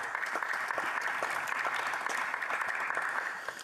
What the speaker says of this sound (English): I think we should all give him a round of applause.